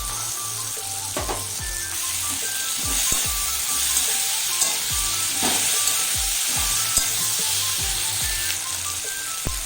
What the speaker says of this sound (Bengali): এবারে আমি কেটে রাখা টমেটোগুলোকেও দিয়ে দেবো ভালোভাবে কষিয়ে নেব